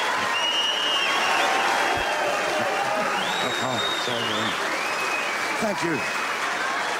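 A television studio audience applauds steadily in a dense, sustained wash for a performer in a 1994 broadcast, and someone speaks briefly over it.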